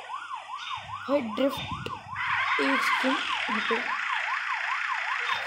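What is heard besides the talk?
police car siren in a video game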